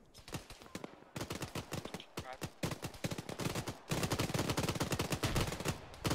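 Rapid bursts of automatic gunfire and single shots in the Arma 3 Gulf War combat scenario, loud and dense throughout with a brief lull, then a heavier sustained volley near the end.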